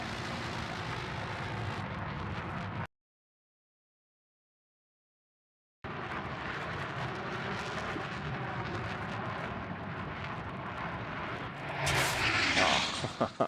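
A jet aircraft in the Battlefield 4 video game roars steadily and loudly, cuts out for a few seconds of silence, then returns with a harsher, louder burst near the end.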